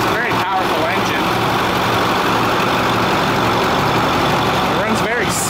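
A 2010 Ford F250 Super Duty Powerstroke diesel engine rumbles steadily at idle, loud and close, a constant low drone with a couple of brief bumps.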